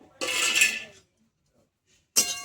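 Whole fennel, cumin and coriander seeds dry-roasting in a wok: two short bursts of scraping and rattling as the spices are stirred against the metal, separated by a second of near silence.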